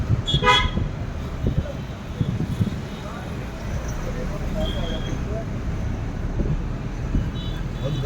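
Road traffic in India, with cars and buses rumbling and several near car horns honking in short bursts, loudest at the start, while people talk nearby.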